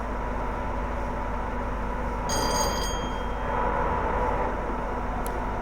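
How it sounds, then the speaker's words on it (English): A train cab alarm in Train Simulator 2021 sounds a bright electronic tone in short repeated bursts over the steady low rumble of a moving train, with no speech. "But the alarms keep going off."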